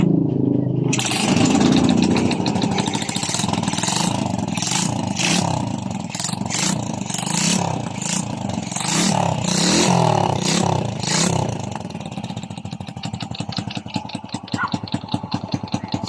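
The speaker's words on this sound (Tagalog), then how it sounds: "try natin kickstart kanyang motor" A Honda Wave 100 motorcycle engine, with a fault that makes it suddenly die, kicked over and catches, then runs with a loud, steady rattling idle throughout, with a faster sputtering pulse toward the end.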